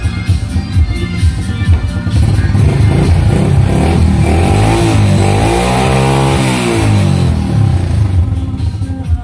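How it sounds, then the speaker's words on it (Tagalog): Motorcycle engine rumbles nearby, then is revved up and eased back down in one smooth swell mid-clip before settling to a steady idle. "Hindi natin masyadong i-rev kasi baka masira ang motor."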